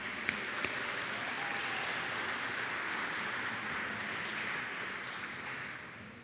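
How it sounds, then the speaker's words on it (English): A crowd gives a round of applause at a sports center groundbreaking ceremony, a broad, even wash of clapping held steadily for several seconds from a large outdoor gathering, with a few sharper claps standing out near the start. "So if everyone could give them a round of applause."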